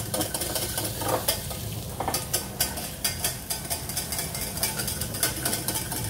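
Green asparagus cooking on a plancha, a dense close sizzle with quick scraping and tapping of a utensil against the hot metal surface in a loose rhythm.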